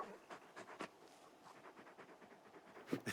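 Torgal, the large hound in Final Fantasy XVI, pants in quick breathy bursts at close range, an uneven rhythmic huffing with a louder puff at the end.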